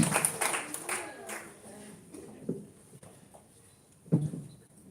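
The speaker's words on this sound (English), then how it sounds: "A round of applause for that, please." An audience at a counseling talk on trauma care breaks into brief applause, with scattered claps up front fading amid quiet room noise and a few louder isolated claps later.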